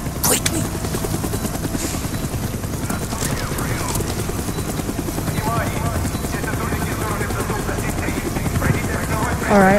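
A helicopter's rotor thrums steadily throughout amid sound effects from the video game Call of Duty: Black Ops, with occasional voices and clattering noises layered over the constant drone.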